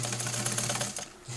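A sewing machine stitches in a quick, even mechanical rattle with a steady motor hum, close and fairly loud, then briefly slows and stops near the end.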